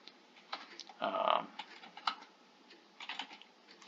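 Light, irregular keystrokes tap on a computer keyboard, quiet and close, with a brief denser burst of typing partway through and scattered clicks around it.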